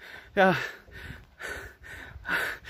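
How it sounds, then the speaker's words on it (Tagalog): Heavy panting after a tiring uphill walk in a mountain village, a few sharp, audible breaths in a loose rhythm, close to the microphone, with no clear words. "Hinihingal uli ang person dahil"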